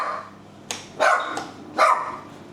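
A dog barks inside a duplex, three sharp barks spaced about half a second to a second apart, fairly close and loud over a quiet room, with no talk.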